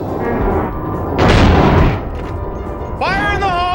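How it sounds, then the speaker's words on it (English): A loud shotgun blast booms out in the survival horror game Silent Hill 2, a short heavy burst standing out over game sounds and a man's chatter, followed by tonal in-game noise. "Sorry about the loud shotgun blast, folks."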